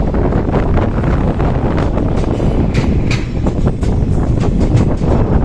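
A train rolls along a line through countryside near Mujnai station on the Siliguri to Hasimara route, a loud, continuous rumble and clatter mixed with heavy wind buffeting close to the microphone.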